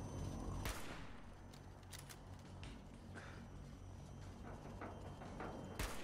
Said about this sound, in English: I missed the second shot.